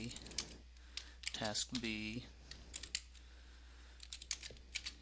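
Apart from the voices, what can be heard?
typing on a computer keyboard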